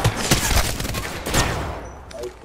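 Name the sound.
gunfire from Apex Legends video game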